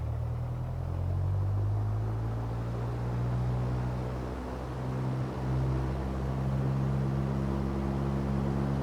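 Flight-simulator light aircraft engine throttled up to 2000 RPM, a steady loud droning hum with tonal engine harmonics that dips briefly midway and then returns.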